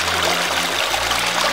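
Spring water flows out of a mountain source near plantations around Situ Cipabeasan in Cupunagara under strong pressure, making a steady, close rushing trickle with a low hum beneath it and no speech.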